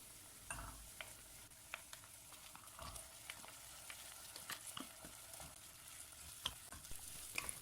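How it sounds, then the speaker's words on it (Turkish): Lentils, rice and bulgur roast with onions in a pan for soup, a soft steady sizzle broken by scattered scraping clicks of stirring, no voices. "Soğanlarımız pembeleşip kavrulduktan sonra yıkamış olduğum mercimek, pirinç, bulguru ekliyorum"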